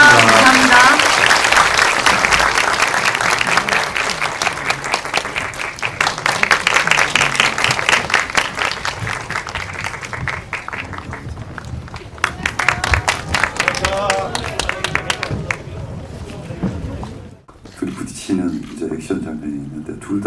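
Audience at a Megabox COEX movie talk event applauds two directors, loud sustained clapping filling the room, tapering off near the end as speech and murmuring rise.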